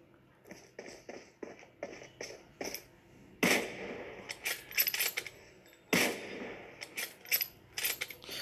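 Gunfire in PUBG Mobile, with a run of sharp, evenly spaced single shots followed by louder clustered bursts, crisp and close, with no talking over them.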